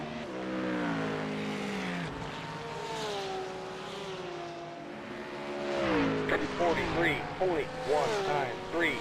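A GT3 race car engine in the iRacing sim during an endurance race drones and rises through gear changes, with sharp revving sweeps near the end, while people talk over it.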